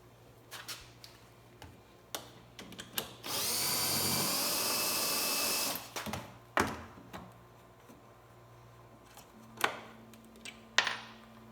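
A drill spins a trimmer to cut a 223/556 rifle brass casing down for 300 Blackout, a loud steady whirring burst of a couple of seconds framed by close clicks and handling taps of the tool and brass.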